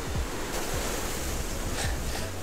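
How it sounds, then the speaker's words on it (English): Ocean waves swelling against a rock jetty, a steady broad wash of surf with wind noise blowing across the microphone, continuous and fairly loud with no voices. "We got bigger swells."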